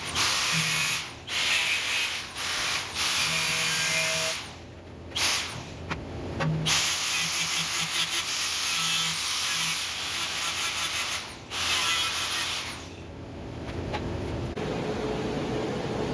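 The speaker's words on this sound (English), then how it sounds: "So I'm going to scribe it with a grinder so that I can see the lines while I'm cutting" An angle grinder scribes cut lines onto steel plate for a custom Class 5+ hitch on a Cateye 2500HD truck, a loud continuous hissing, scraping whine with several brief pauses and restarts.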